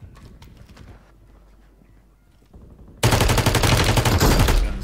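Bursts of rapid gunfire from the video game Warzone on Rebirth Island, erupting loud and dense after a quieter stretch of muffled game sounds, continuing steadily to the end.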